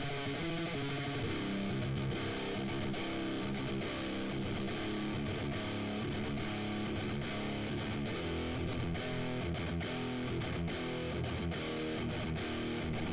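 Electric guitar run through a distortion plugin in Logic during a mix, giving a dense, steady, fuzzy tone with continuous chords and notes for the whole stretch and no talking.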